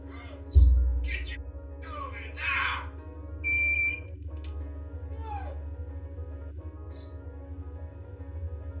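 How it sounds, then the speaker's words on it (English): A pet parrot squawks and whistles in a series of sharp, bright calls, with one loud burst near the start and several shorter cries spread across the stretch, close and fairly clear over a low steady hum. "a woman named Christina Kellen posted this video of her pet parrot talking like a human"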